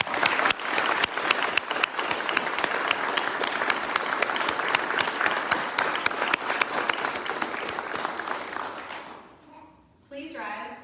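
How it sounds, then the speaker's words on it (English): A crowd applauds newly commissioned second lieutenants at an Army ROTC commissioning ceremony, loud sustained clapping with sharp individual claps for about nine seconds before fading, after which a voice speaks. "Let's give them a round of applause."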